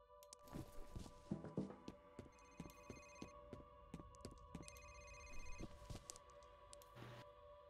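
A telephone rings repeatedly in a video game, its electronic bell tones sounding in steady bursts over a continuous hum, with soft thumps and footstep-like knocks underneath.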